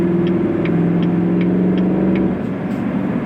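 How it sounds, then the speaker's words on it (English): A 2019 Chevrolet Suburban RST engine accelerating, heard as a steady, fairly subdued low drone with a humming tone that eases off near the end, with no talking. "it's not that loud accelerating"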